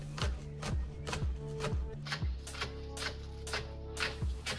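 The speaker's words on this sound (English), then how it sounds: "Finally, chop the spring onion." A knife chops spring onion on a cutting board in steady, rapid strokes, each a crisp close knock with no talking.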